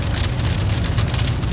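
Rain falls hard and steady, a dense close hiss of drops striking surfaces with no pause.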